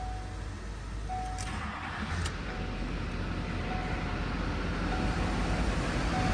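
A Chevrolet Silverado 2500 HD with an LBZ Duramax diesel engine runs with a steady, close, low rumble. The drone holds throughout, with a couple of brief higher clicks early on.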